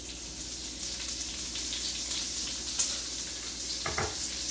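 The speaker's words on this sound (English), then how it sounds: "I'm doing it garlic and onions, and I'm going to scrape the bottom of the pan to get the good flavor." Garlic and onions frying in a pan, a steady close sizzle that runs throughout, with a brief scrape and clatter against the pan bottom near the end.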